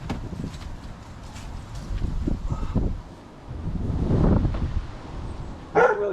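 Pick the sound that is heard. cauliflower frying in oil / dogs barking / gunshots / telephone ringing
dogs barking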